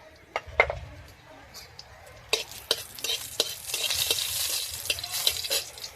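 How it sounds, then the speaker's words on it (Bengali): Whole cardamom pods and a little cinnamon frying in ghee for a bottle gourd payesh: a soft close sizzle that swells after a few seconds, with the clink and scrape of a spoon stirring in the pan. "ঘির মধ্যে দিয়ে দেবো গোটা এলাচ আর একটুখানি দারচিনি। দারচিনি আর এলাচটা একটু ভাজা ভাজা হবে।"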